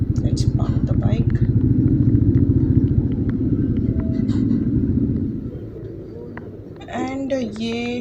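A motorcycle idles close by with a steady throbbing putter while the bike is parked, then the engine cuts off and quiet follows, with a voice speaking briefly near the end.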